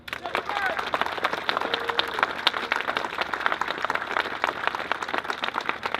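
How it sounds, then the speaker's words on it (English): Round of applause from an audience at a city hall demolition event, steady dense clapping filling the clip at moderate loudness with faint crowd murmur underneath. "Let's give a round of applause to Malden Redevelopment Executive Director,"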